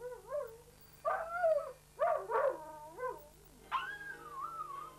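A Dalmatian, set off by a ringing telephone, gives a series of short yelping howls, five or six bursts with pauses between, ending in a longer sliding howl.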